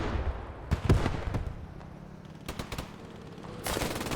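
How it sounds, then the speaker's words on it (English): Bursts of MG42 machine gun fire ring out in the Squad 44 Normandy trench battle, with several short rattling volleys and single sharp shots separated by quieter gaps. "The MG42s have been devastating"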